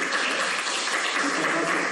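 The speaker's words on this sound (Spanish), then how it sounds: "recibimos con un fuerte aplauso al licenciado Augusto" An audience claps steadily as a company sales manager for Central America and the Caribbean is welcomed to the stage at a corporate event; a dense, even wash of many hands, fairly loud, without a break.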